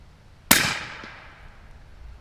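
A single sharp, loud shot from a suppressed .350 Legend rifle firing Winchester Super Suppressed ammunition outdoors, a crisp report followed by a decaying tail, alone with no talk.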